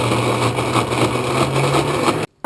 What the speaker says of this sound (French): On commence la recette en mixant l'orange et le café.